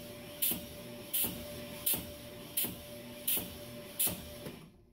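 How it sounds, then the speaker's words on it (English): Honing stones stroke up and down inside an engine cylinder during a Honda Prelude build, a steady hum broken by six evenly spaced raspy pulses before the tool stops and falls silent. "I'm going all the way to the bottom of the cylinder, and then I'm coming up out of the cylinder."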